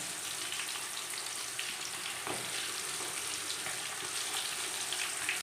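Chicken pieces fry in hot oil with a steady, even, crackling sizzle that holds at a constant level throughout, close up with no voices.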